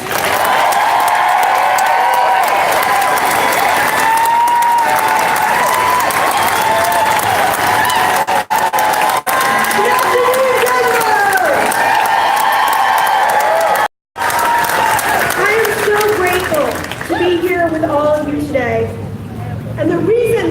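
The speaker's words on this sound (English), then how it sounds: "Please join me and give a round of applause and welcome my friend Shannon Watts" Loud, continuous crowd applause at a gun-safety rally in Denver, with cheering and voices mixed in, broken by one brief dropout near the middle before the clapping carries on.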